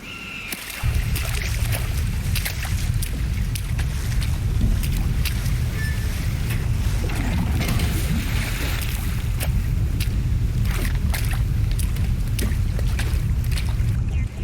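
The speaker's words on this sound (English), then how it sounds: "He might be undetectable by radars, but goddamn, those engines are loud." Loud spaceship engines in the video game Mass Effect 1 give off a continuous, heavy low roar that holds steady from start to finish, with no voices.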